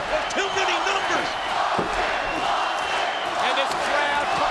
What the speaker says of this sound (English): And this crowd coming alive,